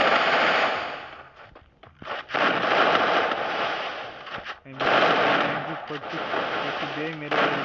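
Video-game weapons fire in long, dense bursts of rapid automatic gunshots, loud and continuous, broken by a few short pauses between volleys.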